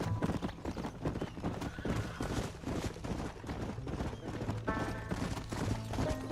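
Horse hoofbeats clip-clop in a steady galloping rhythm throughout a ride in the Red Dead Redemption video game, loud and continuous, with an occasional whinny and game music or background sound layered underneath.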